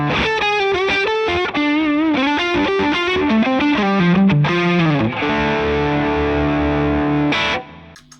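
Electric guitar overdriven by a Tube Screamer pedal in front of the amp plays a melodic lead line with bends, then lets a final chord ring out and stops abruptly.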